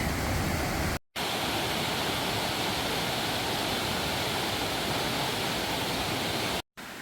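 A rushing mountain stream in the Great Smoky Mountains, heard through the trees as a dense, steady roar of water that fills the clip without pause, with two brief cuts to silence.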